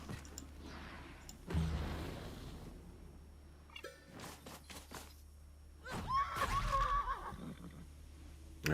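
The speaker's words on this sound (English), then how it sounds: "Now, Horsey didn't like that." A horse whinnies in the video game Wartales, a loud rising-and-falling neigh near the end, preceded by scattered thumps and soft game effects.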